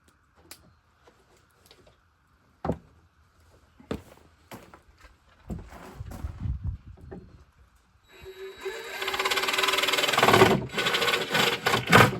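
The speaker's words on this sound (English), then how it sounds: "We'll cut that out with the jigsaw." Jigsaw cutting a half-circle notch around a tree trunk, a buzzing saw that starts after some scattered knocks and handling noises and then runs loud and continuous near the end.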